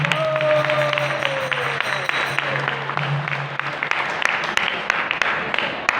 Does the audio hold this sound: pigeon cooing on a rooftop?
no